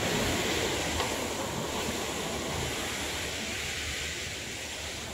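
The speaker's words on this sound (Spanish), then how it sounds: "Ay, el sonido del río." A river flows beneath a rustic wooden footbridge, a loud, steady rushing wash that fills the whole clip with no other sounds standing out.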